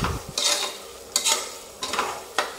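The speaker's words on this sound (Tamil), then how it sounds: "இப்போ வந்து இஞ்சியெலாம் போட்டு இஞ்சி வதக்கம் மட்டும் பச்சை மிளகா போடுறேன்" Ginger and green chili sauté in a pan for biryani, with four distinct bursts of sizzling and scraping as a spoon stirs, close and fairly loud between quieter pauses.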